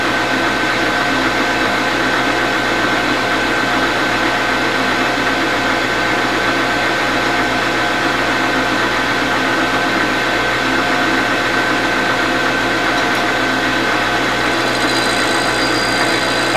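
Machining cut with a light 200 series insert on a drill press extension workpiece, producing a loud, steady whine and hum that runs unbroken from start to finish.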